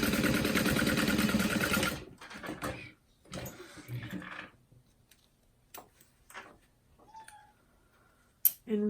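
A sewing machine runs steadily for about two seconds while sewing down part of a tote bag, then stops, followed by scattered clicks and light handling noises.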